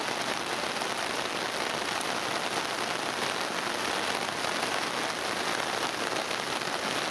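Heavy monsoon rain pours steadily over Pak Pun in Nakhon Si Thammarat, a dense, even hiss of drops hitting surfaces with no pauses or voices.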